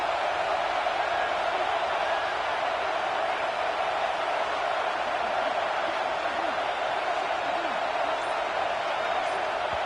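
Stadium crowd roaring in a college football video game as the offense faces fourth and goal against Auburn, a loud, steady, unbroken wall of noise sustained throughout.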